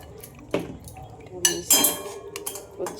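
Metal utensil clinking against a pot or bowl while turmeric is mixed in, a few sharp scattered clinks and scrapes close by, with some faint voice in the background.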